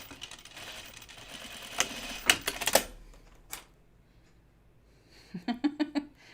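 A sewing machine stitching a woven Texas Top, heard as brief clattering bursts of stitching separated by quiet pauses, with a final quick run of rapid stitches.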